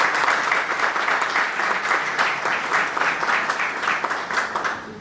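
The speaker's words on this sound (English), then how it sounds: "Give them an applause, please" Sustained audience applause at an international entrepreneurship meeting in Athens, dense steady clapping from a large crowd filling the whole stretch at even strength before easing slightly at the end.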